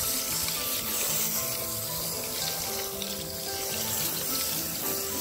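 Water runs steadily from a tap while a malamute dog gets a bath, a constant close splashing gush with no talk.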